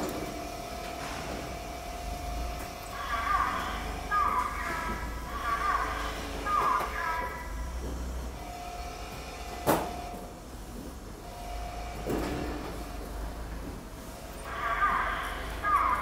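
A PPGI rectangular downspout roll forming machine runs with a steady mechanical hum and rumble, with recurring squeaking metal passes and an occasional sharp clank.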